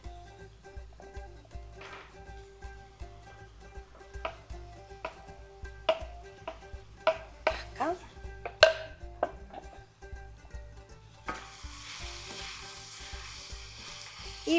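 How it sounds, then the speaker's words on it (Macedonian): Chopped pepper frying in a little oil in a pan gives a soft, steady sizzle. Scattered light clicks and stirring scrapes run through it, and a brighter, louder hiss rises near the end. "Сега малку да се запржи пиперката"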